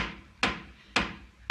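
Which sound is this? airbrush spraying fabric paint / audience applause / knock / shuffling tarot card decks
knock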